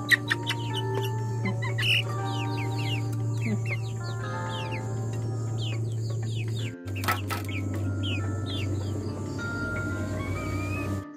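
Backyard village chicks and hens cluck and cheep busily for about eleven seconds, many small peeps layered over a steady low hum, with a brief break midway.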